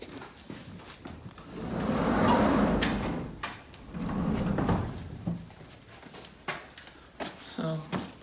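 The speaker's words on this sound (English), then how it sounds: "I'm gonna shut this big door real quick" A big barn door on a goat farm rolls and bangs shut, a long low scraping rumble with a few knocks and clatters at the end, fairly close.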